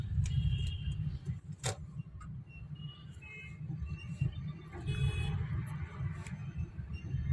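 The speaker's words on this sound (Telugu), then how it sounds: "ఏం ట్రాఫిక్ ఉంది" Bangalore road traffic rolls past near Richmond Circle as a continuous low rumble of car engines and tyres, with faint ticks and jingles on top and no clear talk.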